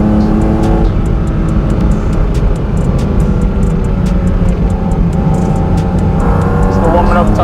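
A Porsche GT4 RS race car driving on a private track through a slow second-gear chicane, loud steady engine drone heard from inside, with a rising rev near the end and a voice talking over it.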